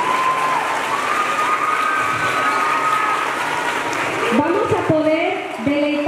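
An audience at a teacher-training school's dance and orchestra rehearsal keeps up loud, dense applause with some cheering, which fades toward the end as a speaker's voice cuts in over the crowd.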